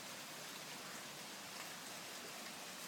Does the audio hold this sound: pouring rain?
yes